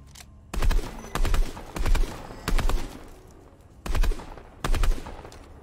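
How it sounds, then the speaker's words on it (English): Bursts of heavy automatic fire from the Brutus minigun in Fortnite, about six short volleys spaced roughly evenly, each a rattling cluster of shots over faint background. "Is it like the Brutus minigun?"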